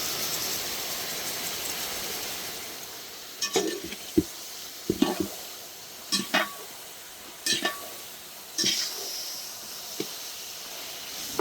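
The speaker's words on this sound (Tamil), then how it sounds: "அப்பப்போ திறந்து கிண்டி விடுங்க நல்லா எண்ணெயிலே நல்லா வேகட்டும்" Brinjal fries in oil under a soft continuous sizzle, broken by several sharp bursts of stirring and scraping in the pan spaced a second or two apart, with no voices.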